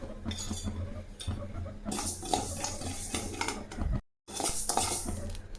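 Mustard seeds dropped into lightly heated oil for an instant tamarind rice spice powder, with metal clinks and stirring against the pan over a soft sizzle, close and continuous.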